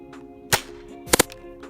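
A Nerf Rival Knockout blaster loaded with two Rival rounds fires, making a sharp pop with a short whoosh, followed about half a second later by a quick double crack of mechanical clicks. No one speaks.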